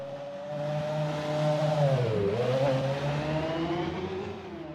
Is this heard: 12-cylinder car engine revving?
yes